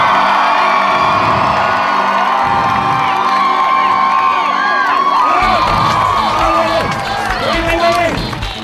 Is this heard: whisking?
no